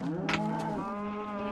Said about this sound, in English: I gotta get away from those cows.